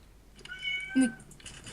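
A single cat meow in Minecraft rises clearly over a quiet background, short and fairly close, with faint game tones around it.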